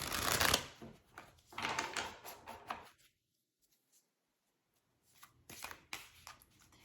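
Tarot card deck being shuffled by hand in bursts of rapid riffling and flicking, close and soft, separated by a quiet pause before a final short round.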